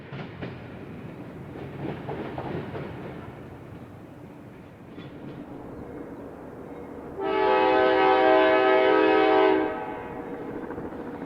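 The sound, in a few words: GE Dash 8 locomotive train on Chicago Fort Wayne and Eastern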